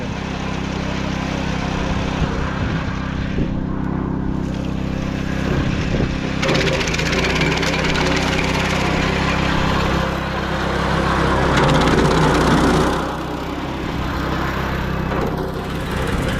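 A branch chipper run at maximum revs chips wood for heating-boiler fuel, giving a loud, steady engine drone with crunching, splintering bursts as branches feed through, continuous throughout.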